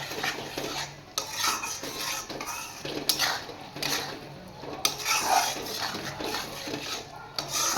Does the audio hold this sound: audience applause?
no